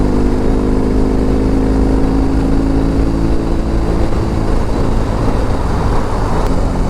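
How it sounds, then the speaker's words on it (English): A BMW R18 Transcontinental motorcycle with a roughly 1800 cc engine cruises on the highway at about 90 in sixth gear, giving a steady, loud low drone mixed with wind rush that holds constant throughout. "We are out here on the highway doing about 90 in 6th gear."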